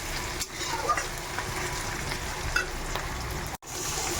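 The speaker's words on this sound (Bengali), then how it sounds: "ভালো করে একটু নেড়ে ছেড়ে নিতে হবে, যে ব্রাউনিশ হয়ে আসে" Onions fry in a pan in a continuous, mid-level sizzle, with occasional clinks and scrapes from stirring and a brief sudden drop near the end.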